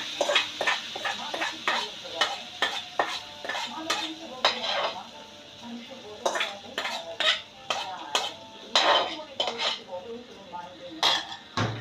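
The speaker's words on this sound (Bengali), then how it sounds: "আমার পেঁয়াজটা ভাজা ভাজা হয়ে এসছে, এবার আমি এই পেস্টটা পুরোটা ঢেলে দেবো।" Frying onions are stirred after spice paste is poured in, giving rhythmic clattering and scraping of a utensil against a pan in quick bursts, with soft sizzling underneath and short pauses.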